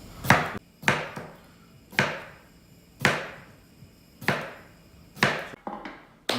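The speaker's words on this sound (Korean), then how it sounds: "저 같은 경우는 한 5mm, 6mm 정도 이렇게 그냥 바로 원형으로 썰고 있어요" A knife chops a cucumber into 5–6 mm rounds on a cutting board, giving seven crisp, evenly spaced thuds close by with quiet pauses between them and no voices.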